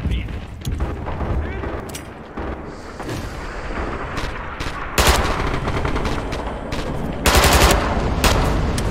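Rifle and automatic gunfire from the Red Orchestra 2 video game crackles continuously, with louder bursts and booms building toward the end, and a voice talks briefly amid the battle.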